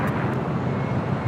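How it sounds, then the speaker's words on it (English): All Nippon Airways Boeing 787-9 Dreamliner taking off from LAX on the south side, heard as a steady, loud broadband jet engine roar that holds at an even level throughout. "Taking off there on the south side, All Nippon Airways Flight 5 heading to Tokyo Arena on that 787-9 Dreamliner"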